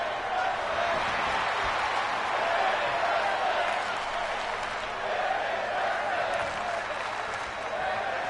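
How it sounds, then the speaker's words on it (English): A wrestling crowd cheers and applauds in a steady, dense roar of clapping and shouting that fills the arena, with a commentator's voice running underneath. "This crowd on their feet as the Empress finds herself in the corner"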